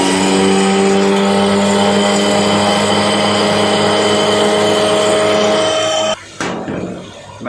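An electric grinder pulverizes whole spices for chicken nihari, a loud steady high-pitched motor whine with a rattling edge that runs for about six seconds, then stops and sputters briefly.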